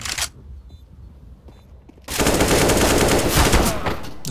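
Rapid automatic rifle fire in the video game CS:GO erupts loud and continuous after a couple of seconds of quieter, muffled game sounds, a sustained spray of shots.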